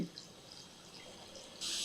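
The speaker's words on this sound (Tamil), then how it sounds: "இப்போது இதில் தேவையான அளவு தண்ணி ஊற்றலாம்" Well water from a home borewell pours into a bowl, a soft, close trickle that swells into a louder rush of liquid at the very end.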